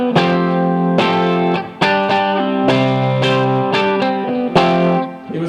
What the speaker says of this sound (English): that sound was from playing with a capo.